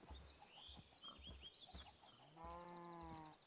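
Blocky cows in a Minecraft survival world moo inside a large pen, several short low calls in a row followed by one long drawn-out moo, no talking.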